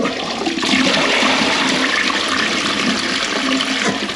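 A household toilet under repair for a leak flushes loudly and close by, then water rushes steadily as the cistern refills, with no talking.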